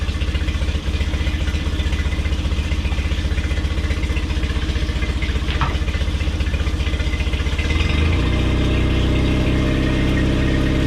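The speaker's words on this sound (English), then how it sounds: "let it run until the engine shuts off" A Tohatsu 8hp four-stroke outboard motor runs steadily at idle with a continuous mechanical drone and clatter, then the engine note shifts slightly near the end.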